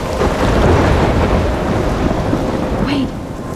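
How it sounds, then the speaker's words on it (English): A thunderstorm with heavy rain in the video game Life is Strange, a loud, dense roar of rain with a rolling rumble of thunder close by throughout, and a brief whistling wind gust near the end. "I'm trapped in a storm?"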